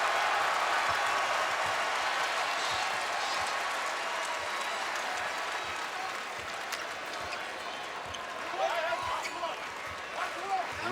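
A basketball arena crowd at a Texas A&M vs Vanderbilt college game in College Station cheers and applauds in a constant roar. Ball bounces and sneaker squeaks come through, and a commentator talks over it.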